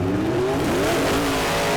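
A 1941 Willys gasser race car launches at a drag race, its engine roaring loud and close with a steadily rising pitch as it accelerates hard off the line.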